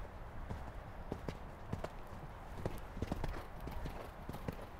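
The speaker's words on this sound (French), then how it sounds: "Galop à droite. Pareil, au-dessous du rythme, laissez galoper le cheval" A horse gallops during a riding lesson, its hooves beating an even, rhythmic three-beat clip-clop on the arena footing at moderate distance, with soft breathing between strides and no clear talking.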